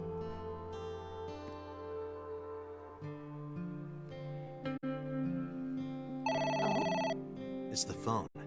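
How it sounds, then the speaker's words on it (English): A video game telephone rings repeatedly in trilled bursts over a steady layered musical background, loud and close, with a spoken voice near the end. "It's the phone. Maybe try picking it up?"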